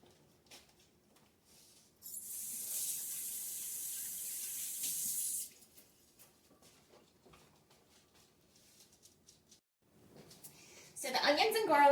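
A sink tap runs for about three seconds as someone washes up, then shuts off to near silence with light handling noises, before water gushes again at the end.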